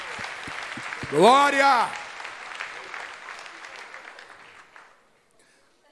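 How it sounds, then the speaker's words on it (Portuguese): A church congregation applauding, a short burst of clapping mixed with a loud shouted exclamation, then the clapping thins out and fades to near silence. "Aplauda o nome do Senhor Jesus."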